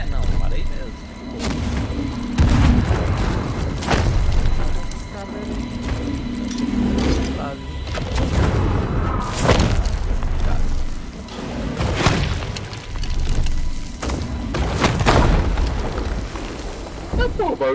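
Explosions and booms in the pirate ship video game Sea of Thieves, several loud heavy blasts spaced through the stretch, mixed with mechanical creaks and clatter and some talk in between.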